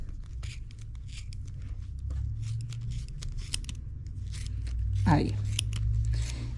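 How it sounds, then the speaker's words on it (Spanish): Very sharp scissors snip through material while crocheting a granny-square coin purse, giving quick crisp cuts and light rustling close by, with a brief spoken word partway through. "con unas tijeras que tengan mucho filo, tiene que ser unas tijeras que tengan muchísimo filo, que realmente corten perfecto"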